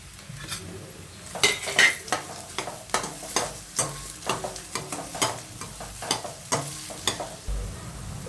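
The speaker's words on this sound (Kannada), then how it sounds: "ಆನಿಯನ್ ಫ್ರೈ ಆಗ್ತಿದೆ ನೋಡಿ." Onions, green chillies and curry leaves fry in oil with a steady sizzle, while a spoon scrapes and clinks against the pan in a rhythmic stirring pattern, close up and without speech.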